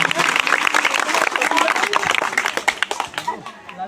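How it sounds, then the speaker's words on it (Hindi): Young people in a Durga Puja temple gathering clap loudly to welcome guests, a crisp, dense burst of applause that gradually breaks into scattered individual claps by the end. "मैं चाहूँगा आप सभी नौजवान साथियों से जोरदार तालियों से स्वागत कीजिएगा"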